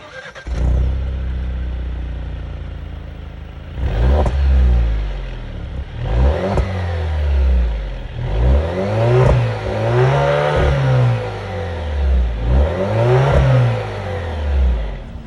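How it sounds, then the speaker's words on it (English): A 2021 Alfa Romeo Stelvio's turbocharged 2-liter 4-cylinder engine starts, idles, then revs up and down repeatedly in rising and falling sweeps, loud and close, with no voices. "the sound of the 2-liter 4-cylinder engine sold by Alfa Romeo for the Stelvio"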